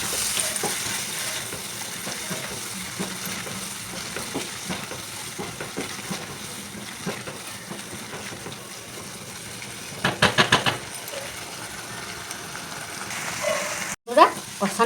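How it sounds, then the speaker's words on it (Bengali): Garden snails with mustard-poppy paste and a splash of water sauté in a pan with a low, continuous sizzle. A utensil stirs and scrapes repeatedly, and a brief burst of clattering comes near the end. "একটু জল দিয়ে সব কিছু আরেকবার কষাবো।"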